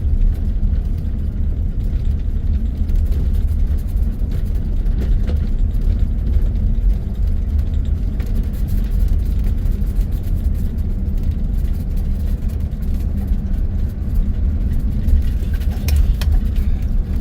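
A camper van rolls slowly out through Caprock Canyon park in Texas, a steady, loud low engine and road rumble continuing evenly throughout from inside the vehicle.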